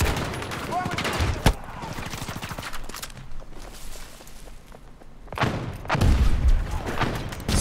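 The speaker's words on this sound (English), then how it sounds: "Getting shot. Fucking constantly, man. In loads of directions." Gunfire rings out in a video game shootout, with rapid bursts and sharp single shots landing in clusters near the start and again toward the end, and quieter rattling in between.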